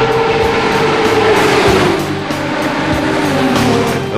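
Cars in an illegal street race roar past, with a loud sustained engine drone whose pitch slides downward midway and a rough, continuous rumble beneath it.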